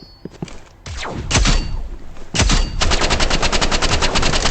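A sniper rifle shot striking a raised shield in a competitive video game match, heard as a sharp impact followed by a fast rattling burst of rapid gunfire-like hits, loud and close with no talking.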